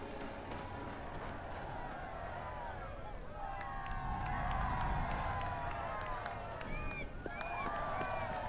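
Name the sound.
crowd cheering in Fable III video game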